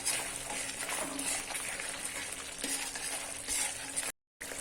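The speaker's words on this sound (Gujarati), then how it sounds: "1 ચમચી જેટલું ધાણાનો પાવડર અને કાશ્મીરી લાલ મરચું પાવડર એડ કરીએ છીએ અને તેલ છૂટે ત્યાં સુધી ફરીથી પકવી લઈએ." Coriander powder and Kashmiri chilli powder fry in hot oil in a home kitchen and are stirred now and then. A steady, faint sizzle continues throughout, then drops out abruptly for a moment near the end.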